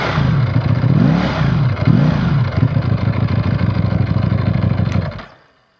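A 2019 Ducati Panigale V4S engine revs up close: a loud, throaty idle swells through several quick throttle blips, then settles into a steady burble before cutting off abruptly into silence.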